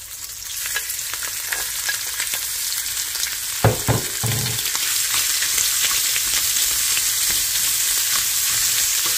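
Shrimp frying with garlic in a hot pan, a steady close sizzle throughout, broken midway by a few louder clattering stirs of the pan, no voices.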